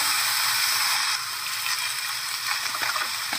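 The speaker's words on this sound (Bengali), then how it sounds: "তারপরে হলুদ লবণ দিয়ে নেড়ে চেড়ে আমি ভালো করে কষিয়ে নেব।" Fish sizzles steadily in a hot pan with turmeric and salt, a loud bright hiss throughout with a few soft stirring scrapes near the end.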